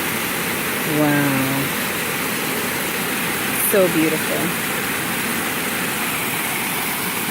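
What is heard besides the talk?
round waterfall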